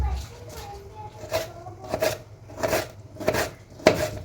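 Vegetables are chopped finely on a board for masala akki rotti, with five or six evenly spaced knife thuds, close and fairly crisp.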